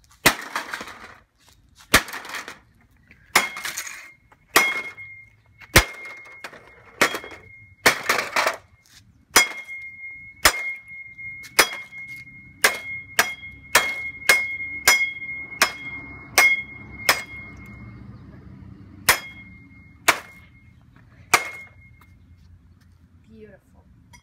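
An Epson printer is smashed apart, with a long run of sharp, loud cracks and bangs at irregular intervals, some with a ringing edge, and splintering plastic between blows; voices appear now and then.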